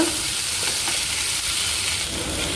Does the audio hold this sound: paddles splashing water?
no